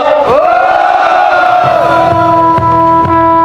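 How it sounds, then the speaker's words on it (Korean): A crowd at a candlelight rally against railway privatisation roars and cheers in sustained loud shouts, with rising whoops near the start and the voices swelling together throughout. "큰 함성 부탁드리겠습니다"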